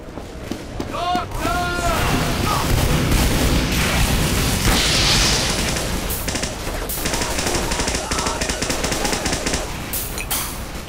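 Team Fortress 2 combat with rapid gunfire and grenade explosions, a dense, continuous barrage of shots and booms with bursts layered over each other for the full stretch.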